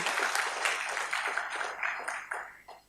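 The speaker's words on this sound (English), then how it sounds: "may I request all of you to give big round of applause for CFTRI" Audience at a conference valedictory ceremony gives a round of applause, faint and fairly distant clapping that slowly tapers toward the end.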